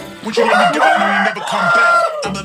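Chickens cluck and squawk loudly close by, several overlapping calls in a busy burst, with a short pause before more clucking.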